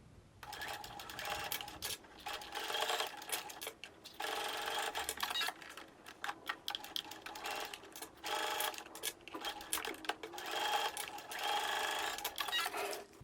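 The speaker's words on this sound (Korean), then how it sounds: "자, 이제 노루발 간격으로 쭉 재봉해 줄게요." A sewing machine runs close by in long bursts of fast, whirring stitching with short pauses between, sewing a zipper pouch at presser-foot width, with no voices.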